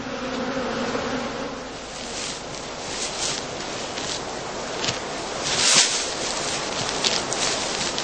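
Honey bees fly in and out of the entrances of straw skep hives in a heathland apiary during heather bloom, a dense steady buzzing swarm sound close by that continues throughout with small swells in loudness.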